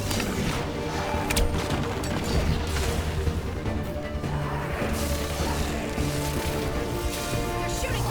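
Enemy gunfire crashes and thwacks through a dense, loud battle scene in the video game Dragon Age: The Veilguard, with repeated impacts over a steady din of music and effects and no clear talk.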